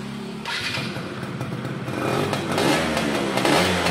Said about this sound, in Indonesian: Ini kita coba nyalakan untuk mesinnya ya.